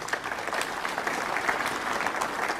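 Steady audience applause fills the hall at a Champion of Champions snooker semi-final between Mark Allen and Kyren Wilson, a dense, even patter of many hands clapping with no talk over it.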